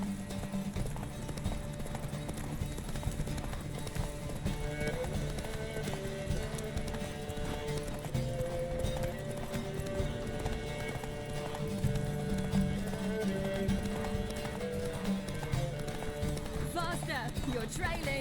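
Roach the horse gallops in The Witcher 3: Wild Hunt, with steady rhythmic clip-clop hoofbeats running throughout over game music, while voices talk on top.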